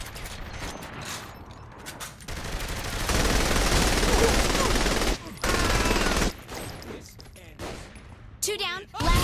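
Rapid bursts of gunfire in the video game Saints Row: The Third Remastered on PC, loud dense volleys that swell and cut off abruptly, with brief pauses and some voice in between.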